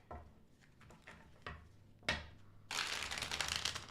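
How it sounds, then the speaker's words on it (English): Tarot cards are shuffled up close in a series of riffles and taps, quiet at first. The sound then swells into a louder, sustained flutter of cards near the end. "All right, last shuffle."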